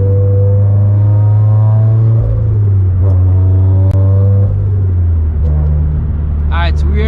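A Toyota GT86 with a Greddy turbo engine idles and warms up in snowy weather, a loud steady low engine drone with slight pitch shifts and revs, close up.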